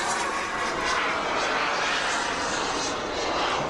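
A model jet aircraft roars continuously overhead while flying aerobatic rolls and inverted passes, a steady loud whooshing drone with slight swells as it moves.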